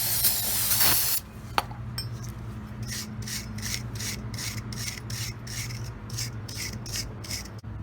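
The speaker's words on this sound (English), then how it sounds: "take our handy wire brush and scrub it off real good" A wire brush scrubbing the metal of a rear disc brake on a car, heard as a run of rapid rhythmic rasping strokes close up over a low steady hum from the workshop.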